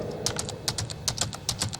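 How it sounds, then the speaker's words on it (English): Music notes being typed on a computer keyboard into Sibelius notation software, a quick close run of clicky keystrokes in uneven bursts, alone without talk. "I can either input the notes onto the virtual score on the screen by this typewriter pad here"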